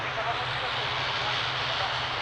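A plane's jet engines roar steadily during takeoff on runway 02 at Lisbon Airport, a broad continuous rumble at moderate distance with no clear rise or fade.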